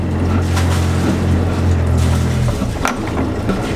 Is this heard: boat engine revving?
yes